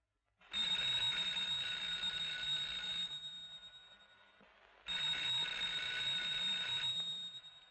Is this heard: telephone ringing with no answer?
yes